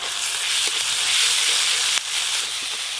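Spices and masala sautéing in a hot pan while cooking an egg and raw tomato curry, a loud, steady sizzle and hiss with a few soft stirring scrapes.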